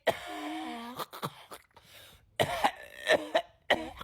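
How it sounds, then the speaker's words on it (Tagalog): A person coughs several times in short, separated bursts with brief pauses between, close and fairly clear, alongside some throat-clearing sounds. "Hindi, inuubo lang ako."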